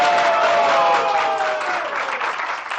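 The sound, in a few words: audience applause at a TV show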